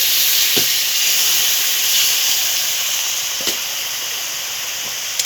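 Water poured onto sugar in a hot pan for caramel, in a wood-fired earthen stove kitchen, gives a loud steady hiss and sizzle throughout, with a few faint clicks underneath.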